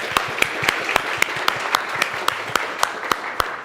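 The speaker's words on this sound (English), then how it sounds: "Miss Andy, if we can give her a round of applause." A small audience claps in a loose, steady rhythm of distinct, sparse hand claps, close and fairly loud, at a talk or service.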